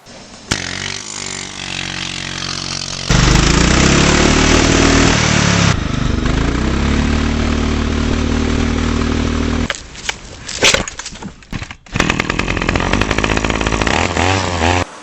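A loud lawn mower engine with a straight pipe exhaust and no muffler revs and sputters with harsh raw exhaust, surging and dropping in pitch, cutting out briefly before roaring again.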